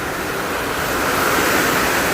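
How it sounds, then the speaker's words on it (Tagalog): Steady, dense hiss of morning rain pouring down, a continuous wash of noise with no voices, loud and unbroken throughout. "Ulan, umaga-umaga."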